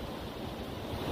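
A powerful waterfall near a dam roars in a continuous dense wash of noise, loud and close, briefly and with no talking.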